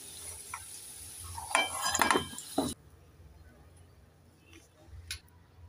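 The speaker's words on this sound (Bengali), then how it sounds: "এবার এদিকে একটা প্লেট নিয়েছি আর হাতা নিয়েছি, হাতা দিয়ে আলুটাকে প্লেটের মধ্যে তুলে নেব।" A ladle scoops deep-fried potatoes out of a pan onto a plate, with clinks and scraping over a soft sizzle in the first half, then a quieter stretch with faint oil sizzle and a couple of light taps.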